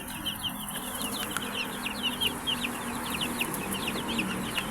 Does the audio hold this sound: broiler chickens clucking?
yes